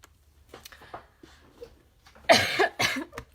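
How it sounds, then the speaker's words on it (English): Someone coughs several times close by indoors: small scattered coughs, then two stronger, harsher coughs in quick succession near the end. "I don't mean to keep coughing at you."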